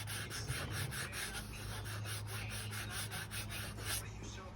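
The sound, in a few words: sanding a leather steering wheel by hand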